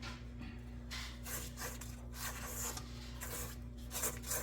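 A spatula scrapes down the sides of a bowl of butter pecan coconut pound cake batter in soft, repeated strokes. The scraping is quiet and close, over a low steady background hum.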